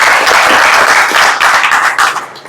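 An audience at a Punjabi Mahasangh youth gathering in Gohana applauds to welcome a speaker, with loud, dense, continuous clapping close by that fades out at the end.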